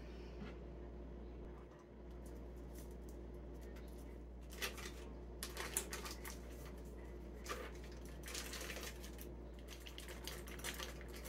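Cream cheese beaten by hand in a bowl for puff pastry appetizers: soft, irregular scraping and light clinks that come in short bursts over a low, steady hum, faint and close.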